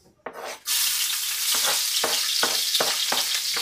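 Garlic hits hot oil for pakbet with a sudden loud sizzle that settles into steady frying, broken by rhythmic scraping stirs of a utensil in the pan.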